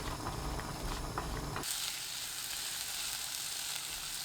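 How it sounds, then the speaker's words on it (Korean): Onion frying in olive oil in a pan over high heat, a loud steady sizzle that jumps in suddenly after a brief lead-in and then continues unbroken. "팬에 올리브유 2큰술, 양파 넣고 센 불로 1분 30초 볶아주세요"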